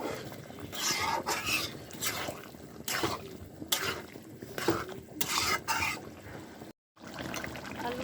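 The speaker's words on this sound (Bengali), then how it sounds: "এখন ভালো মতো নেড়ে চেয়ে নিতেছি" A spoon stirring biryani with yogurt in a cooking pot, giving repeated wet scraping and sloshing strokes at a moderate pace, close by, with a brief silent gap near the end.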